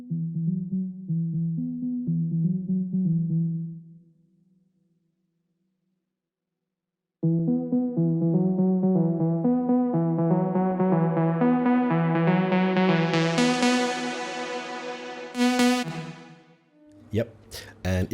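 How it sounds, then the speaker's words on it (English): An Afro House melody starts muffled and dark, drops out briefly, then returns with filter automation gradually opening up so the tone grows steadily brighter and fuller, ending in a bright burst. "So the filter automation sounds like this."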